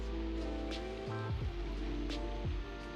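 Steady rain patters on a surface inside the SimRail train simulator game, a soft continuous hiss heard alone, with faint musical tones layered beneath it.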